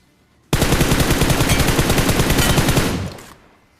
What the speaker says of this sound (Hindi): फाइनली समय आ चुका था पहली बार M416 का यूज करने का